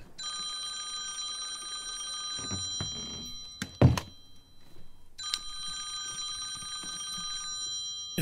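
A telephone rings in the video game Conway: Disappearance at Dahlia View, in two long, bright ringing bursts separated by a brief pause with a couple of dull thunks between them.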